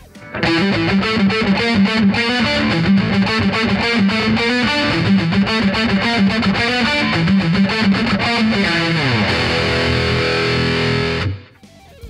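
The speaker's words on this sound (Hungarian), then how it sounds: "Ez volt a Joyo High Distortion torzító pedál" An electric guitar played through a JOYO JF-04 high gain distortion pedal rings out loud and saturated in a fast run of chugging notes, ending on a sustained ringing chord that is cut off abruptly; no voices.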